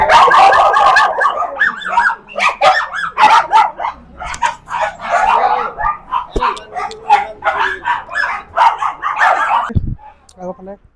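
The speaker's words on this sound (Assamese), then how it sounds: "এইটো মানে কি প্ৰজাতিৰ ডগ হয়? এইটো যে ক্ৰছ হয়, লাচা আৰু চিজুঅ ক্ৰছ।" Lhasa Apso and Shih Tzu cross dogs bark repeatedly in quick, loud, close bursts with some yips and whimpers mixed in, while people talk alongside.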